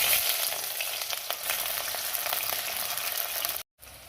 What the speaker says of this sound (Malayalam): ഇനി നമുക്കിതിലേക്ക് കീറി വെച്ച ഉള്ളി ഇട്ട് കൊടുക്കാം